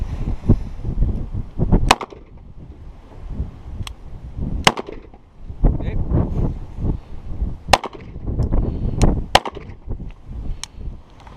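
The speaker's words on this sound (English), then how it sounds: "we just shot 38 Special" .38 Special rounds, solid and +P hollow point, fired into plywood outdoors: several sharp, loud gunshot cracks spaced a few seconds apart over a rumbling, noisy background.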